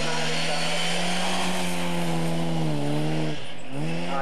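A rally sprint car engine screams loudly and steadily at high revs, the pitch dipping and climbing as it shifts and passes close by, with commentary talk running over it.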